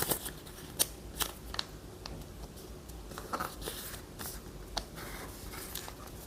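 Sheets of origami paper are creased and folded into a tropical fish, giving crisp, close crinkles and sharp snapping creases in irregular bursts against a quiet background.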